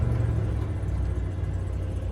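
An RV with newly repaired brakes rolls forward on a brake test, giving a low, steady engine rumble and whir from inside the vehicle, with no speech.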